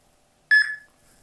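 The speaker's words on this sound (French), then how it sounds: "petit bip de bon augure" A single short electronic beep, clear and bright, rings out once against near silence, from the TousAntiCovid Verif phone app scanning a Covid pass QR code.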